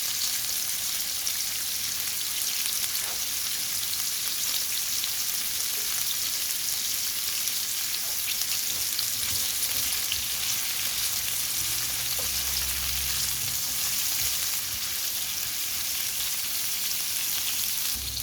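Garlic sautéing in butter and olive oil gives a steady, close frying sizzle with a dense crackling hiss that continues evenly throughout, with no voices.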